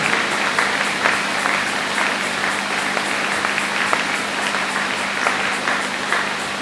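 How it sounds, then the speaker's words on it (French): A church congregation applauds steadily for several seconds, dense continuous clapping that stays loud throughout with a faint crowd murmur beneath. "Acclamez pour la parole."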